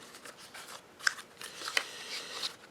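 A set of Pokémon cards being opened gives quiet crinkling, rustling and a few sharp snips and crackles of packaging, close up and irregular.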